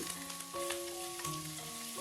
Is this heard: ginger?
yes